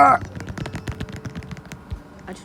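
Rapid tapping on an iPad screen during a Roblox-style obby game gives a fast, uneven burst of close clicks and knocks over a couple of seconds, with game sounds in the background.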